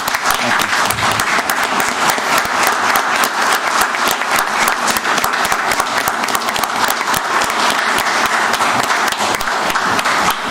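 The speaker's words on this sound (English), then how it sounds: "Let's give these guys a round of applause." An audience at a county commission meeting breaks into loud, sustained applause, with dense clapping filling the room evenly from start to finish and no voices rising above it.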